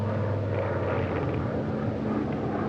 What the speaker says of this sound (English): Ain't nothing but a plane.